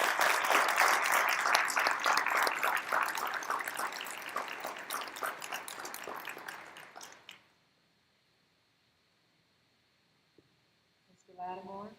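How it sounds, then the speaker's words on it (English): High school graduates and guests at a graduation ceremony break into loud, dense applause with some cheering that gradually thins and stops, followed by near silence and then a brief voice. "Please give yourselves and your wonderful senior capstone lead teacher a big"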